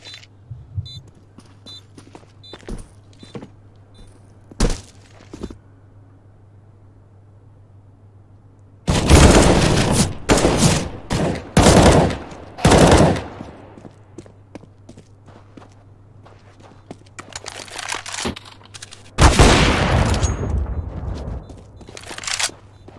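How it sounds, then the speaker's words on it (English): Gunfire bursts from a Counter-Strike pro match: sparse faint clicks and footsteps, then loud clustered volleys of shots in two bursts, with a final sustained burst near the end. "And here on the flank, Death finds a crucial headshot"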